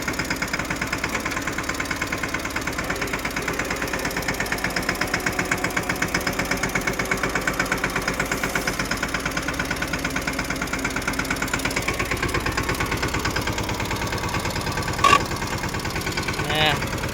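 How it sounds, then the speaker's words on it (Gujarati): A tractor-driven threshing machine working in a farm field, a loud continuous rhythmic engine chug with mechanical knocking and vibration, steady throughout and close by, with no one talking. "આપણે ઠેસર ચાલુ કરી દીધું છે, તમે જુઓ"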